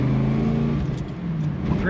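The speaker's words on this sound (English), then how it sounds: "Great sounding exhaust." A 1976 Chevrolet Corvette coupe accelerates on a highway, its exhaust giving a deep steady burbling drone heard from inside the car, loud and close, with someone talking over it.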